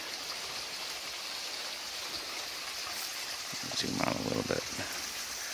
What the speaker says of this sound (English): It's just going to get more and more rain.